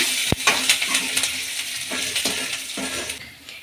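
Garlic and curry leaves sizzle and crackle in hot tempering oil for a mango curd gojju, a sharp pop near the start giving way to a steady close frying hiss with faint stirring clinks.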